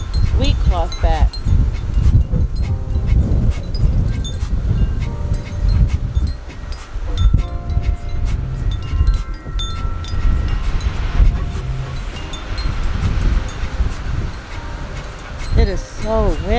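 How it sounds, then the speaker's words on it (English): Strong gusts blow across a microphone outdoors in a spring vegetable garden with raised beds, making a loud, steady rumbling roar that barely lets up for the whole stretch. "It is so windy."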